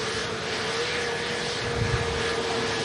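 An Airbus A320neo airliner passing at Manchester Airport, a steady, loud broadband engine roar with a faint whining tone throughout and no talk.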